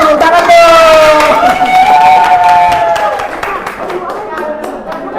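A classroom group claps hands together for a student group about to perform music, steady dense clapping with chatter and a teacher's voice over it, fading slightly toward the end.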